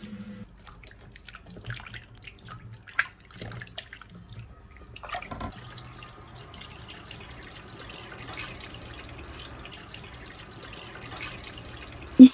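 A kitchen tap runs steadily while raw tuna pieces are rinsed for a Réunion-style tuna carry, with scattered drips and splashes first and then a continuous, fairly close gush of water, no talking.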